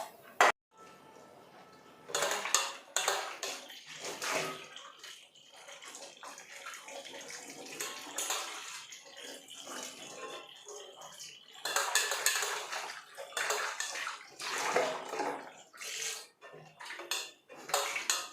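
Oily dishes being washed by hand with Pixie liquid dishwash, with repeated clatter of pots and cutlery, splashing water and scrubbing in irregular bursts, fairly close and moderately loud.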